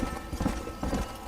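Hoofbeats of a galloping horse in Red Dead Redemption pound in a steady, rapid clip-clop rhythm, close and continuous, with no talk over them.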